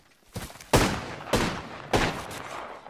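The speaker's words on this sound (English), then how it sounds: "Getting shot at." Gunfire in the video game Apex Legends: four sharp, punchy shots, spaced about half a second apart, each followed by a brief decaying tail.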